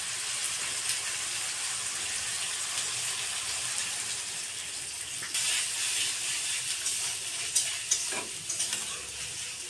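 Hot curry in a pan, sizzling and hissing loudly and steadily as water goes in, with stirring scrapes and a few sharper bursts toward the end.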